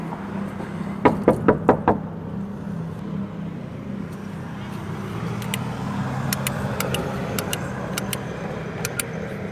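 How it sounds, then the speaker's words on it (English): Four quick knocks on a house door, close and fairly loud against steady outdoor hum with passing traffic, then a scattering of faint, sharp clicks. "knocks and rings the doorbell multiple times"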